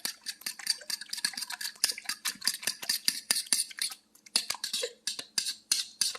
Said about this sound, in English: We mix it using just a fork.